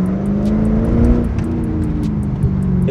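A 350 hp Chevrolet Corvette, 18 years old, its engine droning loudly and close with a steady mid-pitched note that swells slightly as it pulls, continuous for a few seconds with no talk.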